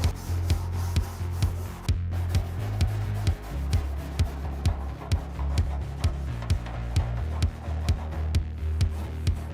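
Hand sanding scrubs in quick, regular back-and-forth strokes on a rusty 1969 Karmann Ghia steel gas tank, each stroke a close, gritty rasp with a hollow metallic body to it, and no voices.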